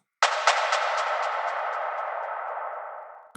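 A single sharp impact that rings out into a long metallic, echoing tail with rapid fluttering repeats, fading over a few seconds before a brief click.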